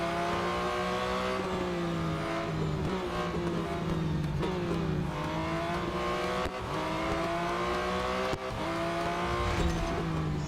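A race car engine in the mobile racing game Real Racing 3 whines loudly and continuously, its pitch sweeping down and up through repeated gear shifts, with occasional brief dips and tire noise.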